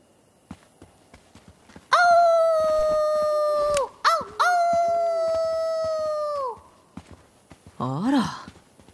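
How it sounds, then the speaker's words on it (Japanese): Wolf howls in the video game Life is Strange 2, two long sustained howls with a brief break between them, loud and close over a quiet outdoor scene, followed by a shorter wavering howl near the end. "狼の遠吠えね。"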